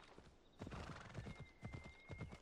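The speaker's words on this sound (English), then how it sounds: "Oh, hello, horsey." Horse in Assassin's Creed Odyssey, hooves clopping in a quick rhythmic gait nearby while a whinny rings out over the steps, with no talk.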